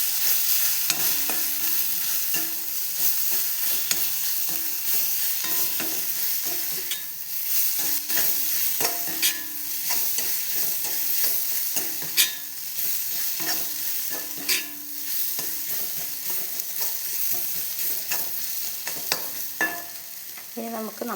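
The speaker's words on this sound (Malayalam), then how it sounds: "കുറച്ച് മസാലപ്പൊടി ഇട്ടു എല്ലാം കൂടി നമുക്ക് ഇളക്കി കൊടുക്കാം" Masala powder being stirred into a frying mix in a pan for a chena roast, steady sizzling with a long run of scraping spoon strokes and occasional sharper clicks against the pan, no talking.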